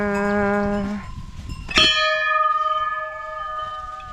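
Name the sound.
temple bell ringing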